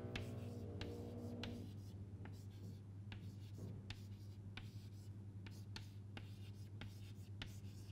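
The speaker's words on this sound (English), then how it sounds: "so let us just write this out." Chalk or marker writing on a board during a math lecture, with faint repeated taps and scratchy strokes over a quiet low room hum.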